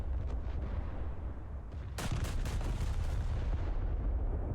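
A warship's 16-inch main guns fire in a naval combat video game, a sudden loud boom breaking over a steady low rumble of battle noise and then rolling on in a long, dense roar.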